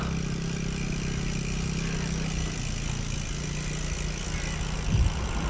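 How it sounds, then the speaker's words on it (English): A bus engine rumbles steadily from behind on a road in Nepal, a continuous low idling-to-running drone that holds throughout, with a brief louder low burst near the end. "Sounds like a bus."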